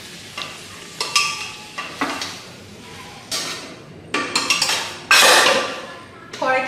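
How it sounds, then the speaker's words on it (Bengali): Mutton curry is scooped from a pan into a pressure cooker in a home kitchen, a series of loud metal scrapes and clanks from a spoon against the cookware, coming in uneven bursts. "এবারে প্রেশার কুকারে মাংসটাকে ট্রান্সফার করে নেব।"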